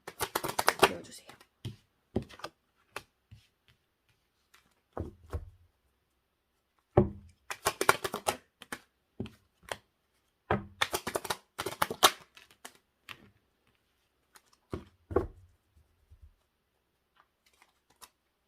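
Tarot cards being shuffled and drawn at close range: short, crisp riffling and slapping bursts come in irregular clusters separated by quiet gaps, with soft voice sounds faintly in places.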